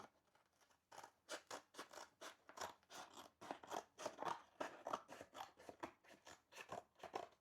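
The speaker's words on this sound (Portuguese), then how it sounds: "Deixa eu terminar de cortar isso aqui para ver se ele fica" Scissors snip through fabric for a medieval hennin hat, a quick run of crisp, rhythmic cuts close by with short pauses between strokes, no voices.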